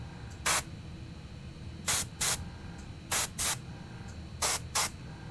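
An airbrush sprays paint onto a Warhammer 40k miniature in short hissing bursts, mostly in quick pairs, over a faint background hum.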